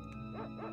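The sacred dog in Secret of Evermore barking, two short quick yaps over steady game music.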